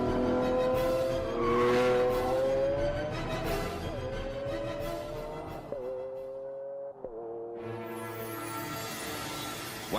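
A Lamborghini Aventador V12 engine revs hard and climbs in pitch, dropping sharply at each gear shift before rising again, loud and continuous throughout.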